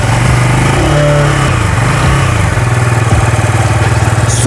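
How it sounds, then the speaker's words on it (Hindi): Keeway SR250 motorcycle engine idling steadily after starting, a loud continuous low throbbing exhaust note close by with a slight dip in pitch partway through, no talking. "Let's just check out the exhaust note of this motorcycle तो आपको ज़्यादा आइडिया जाएगा."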